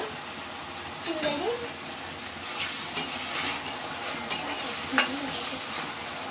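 Steady sizzling of chillies frying in hot oil, with occasional stirring clinks and faint voices in the background.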